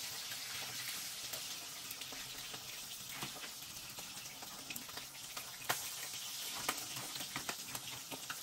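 Faint, steady sizzling of sardines frying in a pan, with soft crackles and occasional louder pops, no voices.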